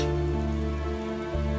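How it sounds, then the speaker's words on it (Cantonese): Steady rain falls on surfaces at a moderate, even level, with a low hum underneath and no speech. "睇嚟場雨仲有排落㗎"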